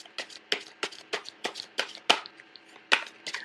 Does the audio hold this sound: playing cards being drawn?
yes